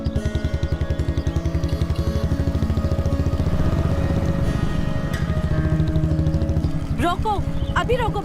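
Motorcycle rides along with a steady, pulsing engine drone that stays fairly loud from start to finish, and people briefly talk over it near the end.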